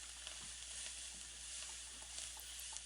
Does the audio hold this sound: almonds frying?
yes